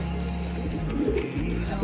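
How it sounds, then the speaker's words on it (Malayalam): A male pigeon coos close by in a loft, giving a run of low, throaty, pulsing coos broken by short pauses over steady background hum. "നല്ലൊരു മെയിൽ പ്രാവ് തന്നെയാണ്"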